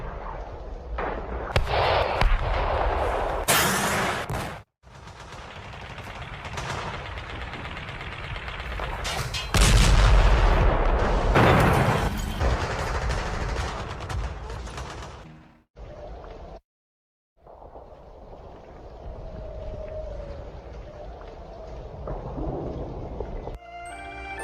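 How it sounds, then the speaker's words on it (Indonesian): Loud battle sound effect of gunfire, whizzing bullets and repeated grenade blasts depicting the 1945 fighting at Ambarawa, with dense bursts and heavy booms that drop out briefly near the end, then resume more quietly. "Desingan peluru meniupkan suasana, ditambah lemparan granat yang bertubi-tubi."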